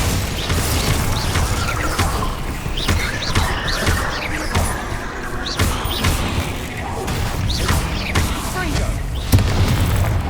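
Glacier ice spell cast during a Hogwarts Legacy battle, amid continuous loud crashes, thuds and whooshing impacts, with a voice shouting over the fighting.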